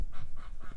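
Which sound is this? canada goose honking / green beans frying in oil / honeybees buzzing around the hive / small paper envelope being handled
canada goose honking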